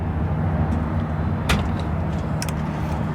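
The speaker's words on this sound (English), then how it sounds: "Let's fire it up, shall we? All right. And we'll listen to it idle." A maroon 1951 Nash Healey Roadster convertible idles close by with a steady, deep engine rumble, joined by a couple of brief sharp clicks along the way.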